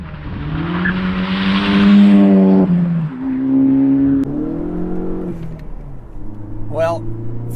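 A Ford Focus ST hot hatch with an EcoBoost engine accelerates hard in sport mode with traction control off, revs climbing through a loud rising engine note, dropping at a gear shift and climbing again, with brief tire noise near the end.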